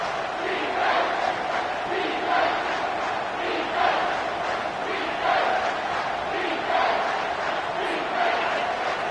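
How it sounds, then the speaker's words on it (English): A stadium crowd in the College Football 25 game roars continuously for the whole stretch, loud and dense. Its swelling cheers rise and fall in waves with no clear voice on top. "with this place rocking, the crowd forces a false start"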